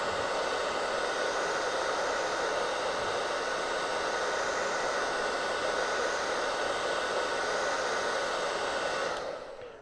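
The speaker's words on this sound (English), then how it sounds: "when you're drying that, you do want to be careful not to hit your transfer with your hair dryer or with your heat tool" A hair dryer blows steadily at close range while drying chalk paste on a craft project, a loud continuous rushing whoosh that cuts off abruptly at the end.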